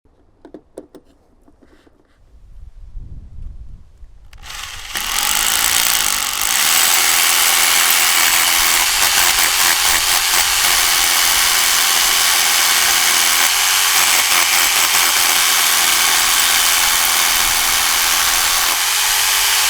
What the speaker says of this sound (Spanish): Vamos a ponerlo en marcha a ver si es capaz de perforar roca de granito macizo con una broca del 10